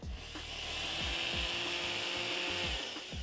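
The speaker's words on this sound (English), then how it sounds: "He's getting a good old polish." Power tool polishing trophy nuts and bolts for a show award: a continuous high whirring buff with a steady scraping hiss and a few faint rhythmic knocks underneath, close and sustained.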